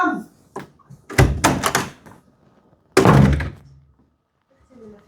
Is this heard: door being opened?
yes